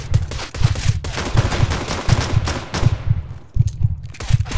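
Dual Berettas pistols fire in CS:GO, a rapid run of close, loud shots in irregular bursts that pause briefly before resuming.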